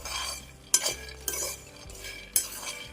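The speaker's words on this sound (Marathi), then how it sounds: "शेंगदाणे आपल्याला व्यवस्थित खरपूस भाजून घ्यायचे आहेत" A utensil stirs peanuts dry-roasting in a heavy-bottomed pan, with close scraping and a few sharp clinks against the metal over a soft, dry rustle.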